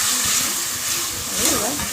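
Tamarind rice mixture frying in a pan gives a steady, close broadband hiss and bubbling, with a voice briefly audible over it.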